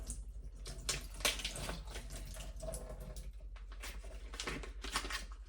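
Water pours and splashes steadily from a pan of zucchini cooked with butter as it is drained into a sink, a continuous close rushing trickle with small clatters of the pan.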